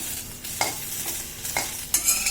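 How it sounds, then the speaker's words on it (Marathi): Sliced okra being dry-roasted in a pan until its stickiness cooks off, with a spatula stirring and scraping in several quick strokes over a soft, steady sizzle; close and fairly loud, no voices. "चिकटपणा निघून जायपर्यंत अशी कोरडी करायची भेंडीला"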